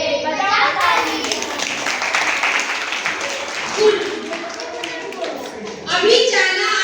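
Children clapping together at a Savitribai Phule birth anniversary school celebration, a steady wash of small hands lasting several seconds, with children's voices and an adult speaking over and around the applause.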